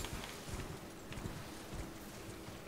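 Horse hooves clop in a steady galloping rhythm as a rider travels on horseback in the Elden Ring video game, a muffled repeating beat under a broad wash of ambient noise.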